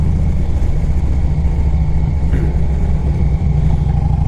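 Steady, loud engine drone from a 2007 Harley-Davidson Electra Glide Standard motorcycle, running continuously and close by with no talking over it.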